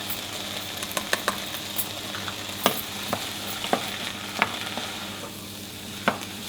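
Chicken breast pieces and onions fry in a pan while being stirred and coated in curry spices, a steady sizzle broken by scraping clicks of the spoon.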